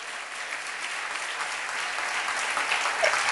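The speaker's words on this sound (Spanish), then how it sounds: "Démosle un aplauso fuerte al Señor." A church congregation applauds together in sustained, dense clapping that stays steady and fairly loud throughout, with no talking over it.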